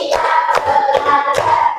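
A group claps in rhythm during an ice-breaking game in a classroom lesson, with loud, close, sharp claps in a quick repeating pattern.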